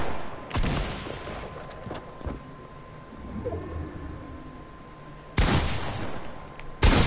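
A shotgun in a video game fires several loud, separate blasts, two spread across the first seconds and two more close together near the end, over quieter background game sound.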